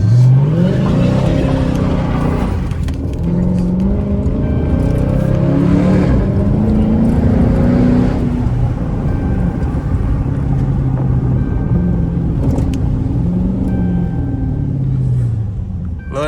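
Straight-piped Chrysler 300S with the Hemi 345 V8 revving and accelerating at night in Mexico, a loud, raw exhaust roar rising and falling in repeated pulls, with a voice talking over it.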